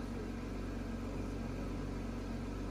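A Porsche sports car engine idles steadily on a cold start with a low, even rumble and a slightly raised cold-start hum, no voices.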